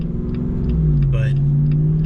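A 2021 Jeep Wrangler Rubicon 392 V8 with its performance exhaust flap open, giving a loud, steady, close deep exhaust drone with a slight rise in pitch partway through.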